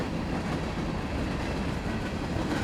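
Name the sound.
USA 250 locomotives passing in Indiana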